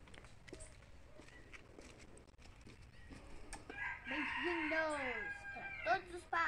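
A rooster crows and clucks nearby in a series of rising, wavering calls that build toward the end, with quieter outdoor sounds and a few soft taps before it.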